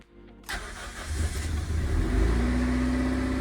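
An old project car, unused for over thirteen years and being readied for its MOT, cranks and fires after a brief quiet moment, then its engine settles into a loud, steady warm-up idle close by.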